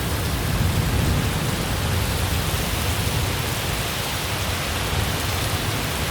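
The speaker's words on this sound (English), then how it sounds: "Newtown getting ravaged by the storm." Torrential rain pouring down during a storm in Newtown, Sydney, a loud, dense, unbroken roar of heavy rainfall hitting surfaces, steady from start to finish with no voices.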